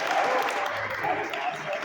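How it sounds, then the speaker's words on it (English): Audience applause from a crowd of around a hundred people at an in-person political campaign meeting, a steady wash of clapping that holds evenly for under two seconds. "Give yourself a round of applause."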